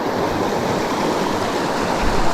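Water from a stream rushes steadily across a hiking trail in Kakwa Provincial Park in northern BC, a close, continuous broadband roar with no letup and no voices.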